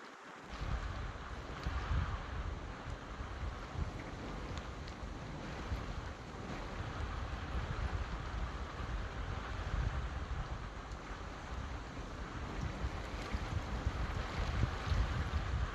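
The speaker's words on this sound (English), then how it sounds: "the wind's really picking up here in this band" Hurricane wind blowing hard during a major hurricane striking Jamaica, a dense, steady roaring gust noise buffeting the microphone, loud and continuous throughout with no talking.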